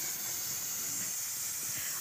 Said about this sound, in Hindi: और कुकर को मैंने चूल्हे के ऊपर चढ़ा दिया है दाल बनाने के लिए